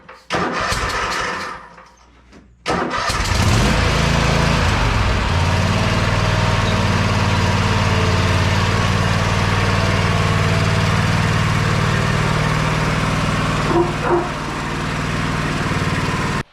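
A riding lawn mower engine cranks briefly, pauses, then catches and settles into a loud, steady idle close by, running alone for about fifteen seconds.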